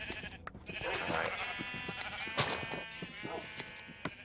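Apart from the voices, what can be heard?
sheep bleating while being sheared in the video game Minecraft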